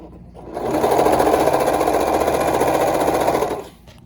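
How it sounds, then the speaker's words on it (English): A serger sewing machine stitching a stretched waistband onto fabric, a loud steady whirring hum rising quickly and running about three seconds before stopping, close up with no talk. "So let me see if I can show you how I sew these."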